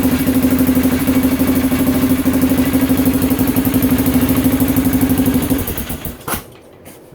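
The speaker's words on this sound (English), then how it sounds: "And the bike does fire up," A 2001 Polaris Sportsman 500 HO ATV idles loudly up close, a steady throbbing single-cylinder chug that holds for about six seconds before the engine is shut off and dies away.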